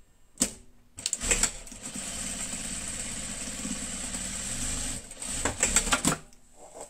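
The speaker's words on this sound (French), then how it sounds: "Et je vais venir piquer ici et ici." A sewing machine stitches the seam of a beret, running steadily with a mechanical hum for several seconds, framed by a few clicks and handling sounds.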